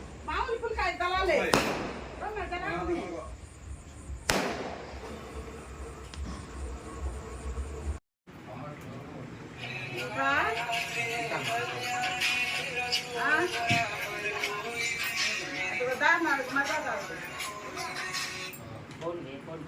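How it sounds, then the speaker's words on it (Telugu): Firecrackers set off for a village goddess festival crack out in two sharp, loud bursts, followed by a dense, noisy stretch of festival din, with people talking throughout. "పొలివరమ్మ కొలుపులు అని చెప్పి బాంబులు పేలుస్తున్నారు డిజైన్ డిజైన్లుగా వస్తున్నాయి చూడండి"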